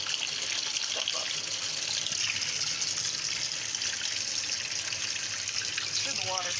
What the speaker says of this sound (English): It's gonna fill up with water again, and then it's gonna fill back up with water